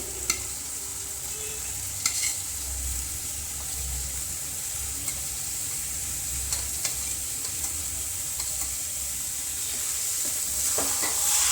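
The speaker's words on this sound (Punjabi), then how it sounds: "ਪਨੀਰ ਪਾ ਕੇ ਮਿਕਸ ਕਰ ਦੇਵਾਂਗੇ" Paneer tossed with roasted spices in a pan for dhaba-style paneer bhurji, a continuous frying sizzle with scraping stirs and occasional spoon clinks, no talking.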